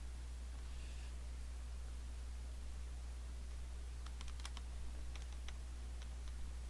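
Rapid keystrokes clatter on a heavy-duty gaming keyboard, a quick cluster of clicks following a stretch of faint background noise, close and fairly quiet.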